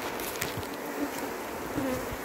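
Africanized honey bees in Trinidad buzz around an opened hive, a close, continuous humming drone over the whole moment.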